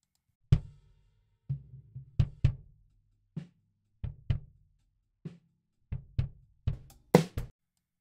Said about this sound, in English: So the original kick sounds like this.